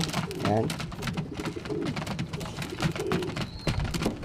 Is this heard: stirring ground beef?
no